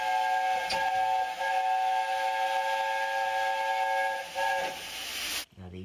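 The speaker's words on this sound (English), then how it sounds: "So the first is the Gresley 3-chime whistle." A Gresley A4 Pacific steam locomotive's three-chime whistle blows in long, loud blasts over hissing steam, then cuts off abruptly near the end.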